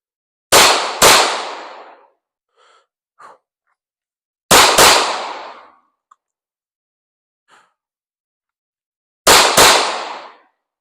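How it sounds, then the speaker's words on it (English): A Canik Mete SFT pistol fires downrange on a shooting range in three bursts of two sharp, loud, close shots each, with echoing decays and a few faint clinks and thuds between them. "So we'll go ahead and put some more rounds downrange with the SFT."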